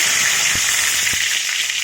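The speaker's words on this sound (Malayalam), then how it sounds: "അതിലേക്ക് 1/2 ടേബിൾ സ്പൂൺ കടുകിട്ട് പൊട്ടിക്കുക. കടുകെല്ലാം ഒന്ന് പൊട്ടി വരട്ടെ." Mustard seeds splutter in hot oil in a pan for a Kerala papaya thoran, with a steady loud frying hiss and a few sharp pops scattered through it, no voices.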